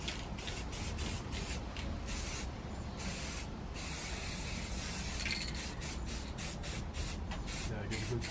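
Aerosol spray coating an Audi A7 RS7 grille, a steady close hiss running in repeated bursts with short gaps throughout, with some faint background talk.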